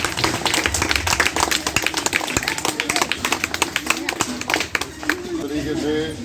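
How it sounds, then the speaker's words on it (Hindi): Children clapping for a gold medal winner at a village gathering, dense rapid applause close by and filling the clip, with voices mixed in beneath. "एक बार उसके लिए इनकी क्लैपिंग कर दिए"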